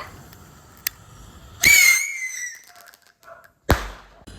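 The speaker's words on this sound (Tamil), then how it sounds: "ஒரு பட்டாசு வெடிக்கிறதுக்காட்டி எவ்வளவு தலைவலி" A sharp crack with a rising whistle, then quiet and a second loud burst, like a Diwali rocket and firecrackers going off nearby.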